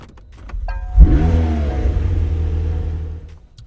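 A 2020 McLaren 720S convertible starts up close by: a short starter whir, then the engine catches with a sharp rev flare and settles into a steady, loud idle.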